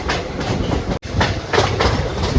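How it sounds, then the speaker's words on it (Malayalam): The Thrissur-Coimbatore Intercity Express slows toward a stop at Vadakkanchery station, with close, loud, steady clickety-clack of wheels over rail joints and a constant rumble. "ട്രെയിൻ ഒന്ന് നിർത്തുന്ന പോലെ ഉണ്ട്."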